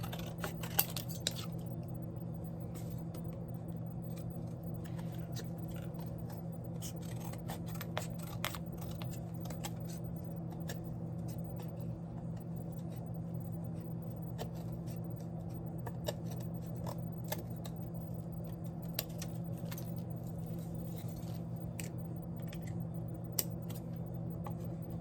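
Quiet, repeated snips of scissors trimming paper for Dollar Tree fall decor, close and crisp over a steady low hum, irregular cuts spread throughout.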